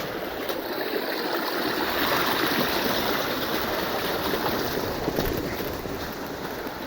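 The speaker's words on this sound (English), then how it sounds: "Nothing like the sound of running water in the desert." Desert stream of running water, a continuous broadband rush and gurgle, loud and close, steady throughout with no voices.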